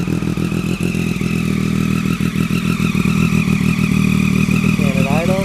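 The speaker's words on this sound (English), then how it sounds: "Let's go ahead and do a startup. So this is just regular idle." A motorcycle fitted with an Austin Racing V3 titanium exhaust idles steadily and close, a low throaty pulsing rumble with a faint clatter and no revving.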